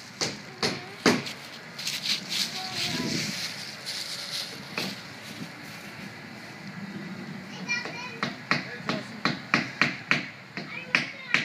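Sharp hammer taps repeat in quick bursts, close by, while children talk and play in the background.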